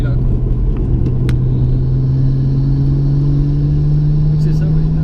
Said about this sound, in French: on entend bien le turbo, il est là